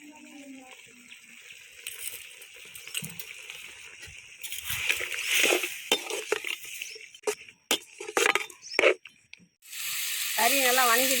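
Goat meat sautéing with turmeric and rock salt in a pan, a steady close sizzle and crackle with occasional stirring clinks, growing louder partway through and surging again at the end.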